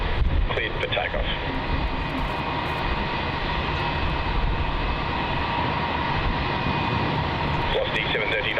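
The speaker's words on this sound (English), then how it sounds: "Dash 8 arrival for Qantas Link now touching down on runway 16 behind the dreaded terminals" A Qantas Link Dash 8 turboprop touches down at Melbourne Airport, its engine noise a steady, broad roar that holds evenly throughout, fairly close and loud, with faint voices in the background.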